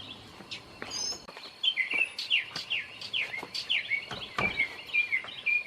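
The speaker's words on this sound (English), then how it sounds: "You know, mockingbirds, they can mock any other bird's sounds." A mockingbird sings outdoors in a Georgia garden, giving a quick run of repeated bright chirps and whistled phrases at moderate distance, with faint background noise between notes.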